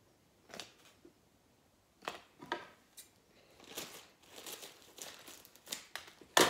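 A paper bag holding seeds and potting soil is crumpled and crinkled in several short bursts with quiet gaps between, close up, ending in a sharper rustle as it is squeezed down.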